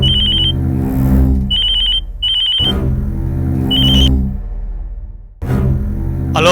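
A telephone rings in a Tamil TV serial scene, giving loud, repeated bright ring bursts in a steady on-off pattern over a sustained low musical drone.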